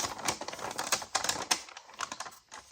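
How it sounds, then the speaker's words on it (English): Sheets of old German paper are torn into small pieces for a junk journal, giving close, crackling rips in quick irregular bursts with short pauses between them. "just need to tear these up to be this size or smaller"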